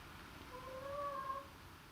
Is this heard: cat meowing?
yes